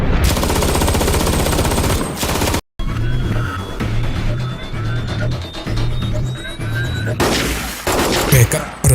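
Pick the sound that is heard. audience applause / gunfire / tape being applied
gunfire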